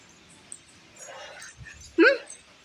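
A pet dog whimpers in a short high, wavering cry near the end, preceded by faint rustling and low noises, loud and close.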